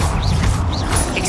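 The Confringo blasting spell in Hogwarts Legacy goes off during a fight as a loud, dense burst of crackling, whooshing energy with a heavy low rumble. It stays continuous throughout.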